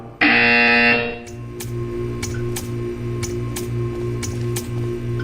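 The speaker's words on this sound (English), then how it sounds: "When you hear the buzzer, stare at the art." A Portal 2 game buzzer sounds once, a sharp loud electronic blare lasting under a second, followed by a quieter steady ticking pulse that repeats evenly for several seconds.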